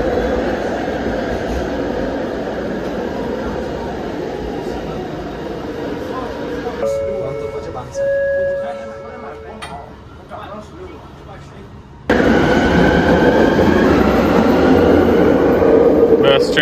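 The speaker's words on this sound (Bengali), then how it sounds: "ট্রেন চলে গেল" A Kuala Lumpur MRT metro train departs a station with a loud, steady rumble that cuts away midway, then drops to a quieter stretch with a faint whine before a loud burst of noise returns at the end.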